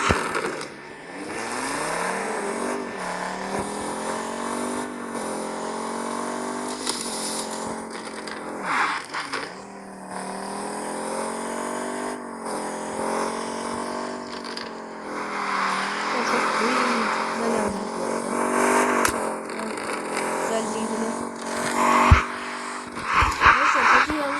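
Engine of a car driven along a dirt road in Minecraft, droning steadily for the whole stretch with rising and falling pitch as it slides and turns, loud and continuous, mixed with a game soundtrack.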